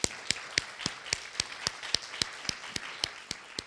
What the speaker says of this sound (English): we should give Yesomi and Chris a very big round of applause